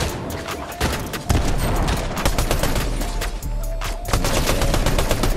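Rapid gunfire rings out in the Fortnite Zero Build Chapter 5 battle royale game, loud, close bursts of repeated shots with short gaps between volleys.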